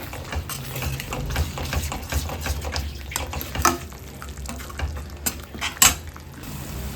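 Masala for prawn ghee roast fries in ghee, giving a close, steady sizzle broken by scattered clinks and scrapes of a utensil against the pan.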